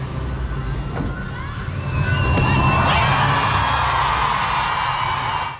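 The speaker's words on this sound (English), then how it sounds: "Here's the crowd roaring when Biles landed the most difficult." A big arena crowd at the gymnastics World Championships in Antwerp roars as Simone Biles lands a vault, the cheering swelling into a loud, sustained wall of shouts and whoops that holds for several seconds before cutting off.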